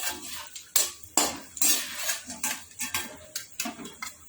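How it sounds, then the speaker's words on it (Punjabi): Almonds being dry-roasted in a pan for flaxseed panjiri rattle and scrape as a utensil pushes them around, a rapid series of sharp clatters and knocks close by, with only a faint hiss between strokes. "ਥੋੜੇ ਜਿਹਾ ਆਪਾਂ ਬਦਾਮ ਭੁੰਨ ਲਵਾਂਗੇ"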